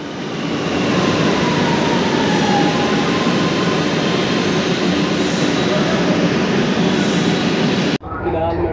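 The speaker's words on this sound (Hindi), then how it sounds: "देखिए मेट्रो आ गई" A Lucknow metro train pulls into the station with a loud, steady rumble and rolling roar that holds close for several seconds before cutting off abruptly near the end.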